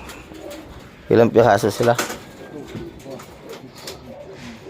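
Pigeons coo inside a loft, soft rounded calls heard nearby under a voice that speaks briefly in Filipino, with quieter cooing continuing afterward.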